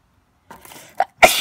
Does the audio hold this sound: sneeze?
yes